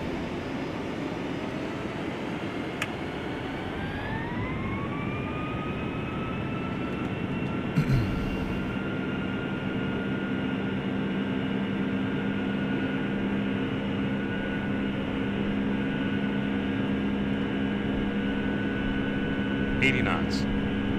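QualityWings Boeing 757-300 jet engines spool up to a steady roar on the takeoff roll in a flight simulator game, a continuous loud hum with rising whine tones and a few brief clicks.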